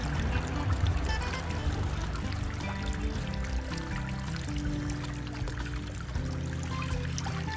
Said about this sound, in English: I will take my snuffer bottle and get it